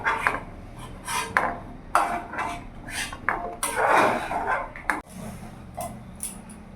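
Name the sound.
wok (kadai) being placed on the stove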